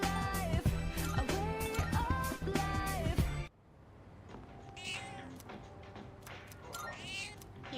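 A cat meows in the video game Persona 3 Reload, a few short, bright cries over busy game music that cuts out midway, leaving quieter in-game sounds with more faint mews.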